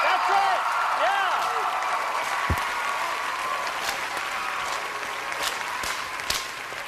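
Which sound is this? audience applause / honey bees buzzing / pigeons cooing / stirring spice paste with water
audience applause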